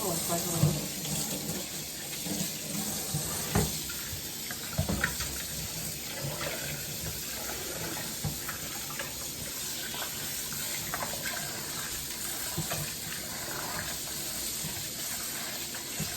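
Steady running water from a kitchen tap fills the whole stretch, a continuous broadband rush with small splashes and clinks, close and fairly loud.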